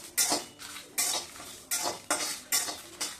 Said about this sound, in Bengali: এটা শব্দ শোনা যাচ্ছে বোঝা যাচ্ছে যে হ্যাঁ এবার আমার মশলাটা ভাজা কমপ্লিট হয়ে গেছে